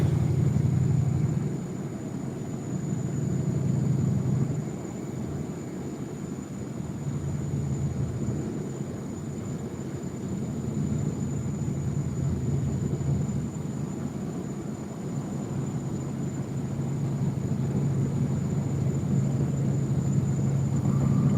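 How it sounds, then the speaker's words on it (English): A Dodge truck runs with a straight-pipe exhaust from the catalytic converter back, giving a steady, deep, hollow rumble heard continuously from inside the cab. "I got a straight pipe all the way from the catalytic converter all the way back. So it's a very hollow, echoey sound."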